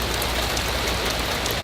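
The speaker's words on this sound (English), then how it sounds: "It's just insane how much rain we're getting." Heavy rain pours down during a severe thunderstorm under flash flood warnings, a loud, dense and unbroken hiss of drops hitting surfaces close by.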